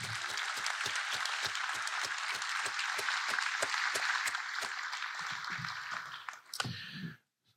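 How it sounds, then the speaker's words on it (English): Audience applause at a medical school convocation, a steady wash of clapping punctuated by a few loud, rhythmic nearby claps, fading out toward the end as a voice begins speaking. "Please give her a round of applause"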